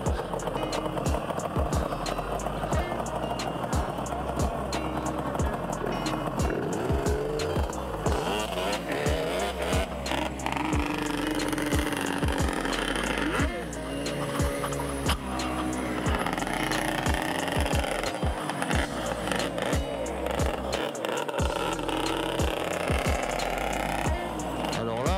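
A two-stroke Yamaha Banshee 350 and a Super Soco TC Max electric motorcycle are ridden, with loud, continuous engine revving and shifting whine, rising and falling pitch, and wind buffeting close to the rider.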